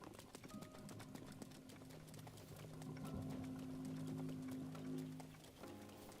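Horse hooves clip-clop steadily at a trot in the video game Zelda: Breath of the Wild, a quiet rhythmic patter with faint game ambience behind it.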